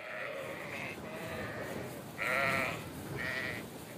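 Sheep bleating inside a sheepfold on an Icelandic farm, several overlapping calls in a row, some louder and nearer, with a quiet barn background.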